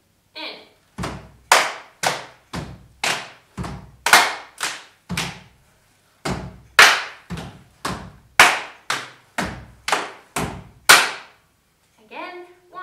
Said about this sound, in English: The next step will be another clap.